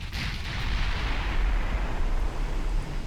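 A naval gun shell strikes a ship in Ultimate Admiral Dreadnoughts, a sustained deep rumbling roar of impact and explosion, loud and steady with no voices.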